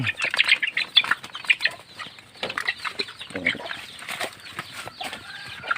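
Chickens clucking and chirping on a poultry farm, a busy mix of short calls close by, with faint speech in the background.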